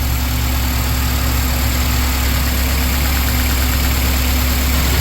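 A 2004 Honda Accord engine idling with a misfire, a steady loud rumble with faint irregular popping underneath, recorded close with no voices.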